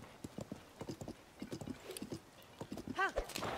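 Epona, a horse in the video game Zelda: Tears of the Kingdom, gallops with a quick clip-clop rhythm of hooves and gives a brief whinny near the end, heard alongside a voice.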